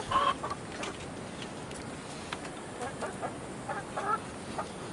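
Rhode Island and organic breed chickens cluck faintly in a farmyard, a few soft scattered calls over quiet background noise.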